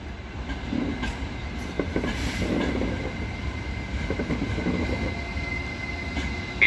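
A Trenitalia regional train at a station platform, a steady low rumble of rolling stock with faint wheel and rail noise, continuous and moderately loud, with no talk over it.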